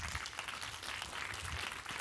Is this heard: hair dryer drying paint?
no